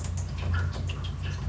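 Pure RO/DI water dripping from a hose into a 7-gallon tub, light irregular drips and splashes over a steady low watery hum, fairly close.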